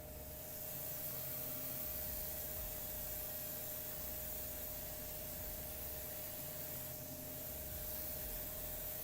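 A spray can nozzle hisses steadily as paint sprays out, a continuous close airy spray with a faint low hum underneath and no voices.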